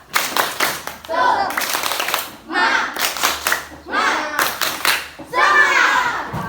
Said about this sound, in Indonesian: Tepuk diam. Tepuk diam. Tepuk semangat.